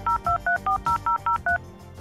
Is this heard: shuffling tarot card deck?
no